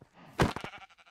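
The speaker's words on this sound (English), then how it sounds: "And there's our first sheep." A single sheep in Minecraft lets out one short, close bleat that trails off in a few quick wavering pulses.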